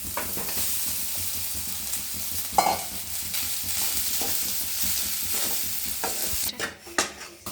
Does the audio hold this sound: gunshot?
no